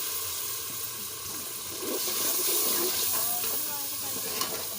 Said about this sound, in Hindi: थोड़ा सा मैंने पानी डाल देते हैं।